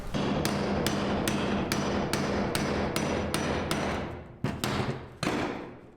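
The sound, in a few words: hammering to remove a truck part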